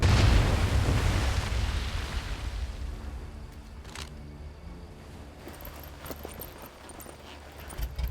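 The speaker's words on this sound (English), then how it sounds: "That explosion got the attention of all the German patrols in the area." A big explosion in the World War II shooter Medal of Honor: Above and Beyond, with a loud booming blast that rumbles and slowly fades over several seconds, followed by faint scattered debris and crackle.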